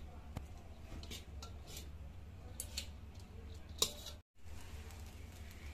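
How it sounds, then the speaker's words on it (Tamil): A spoon stirs chicken into string hopper kottu in a pan, making faint, sparse metallic scrapes and clinks with one sharper knock over a low steady hum, quiet and without talking. "இனி நான் சிக்கனை சேர்க்க போறேன். இனி கலந்து விடுவோம்."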